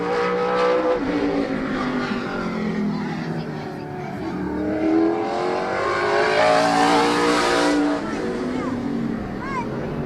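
Race cars lap Midvale Speedway, engines roaring and rising in pitch as they pass close by, a steady loud motor drone for several seconds. A track announcer talks over the engines.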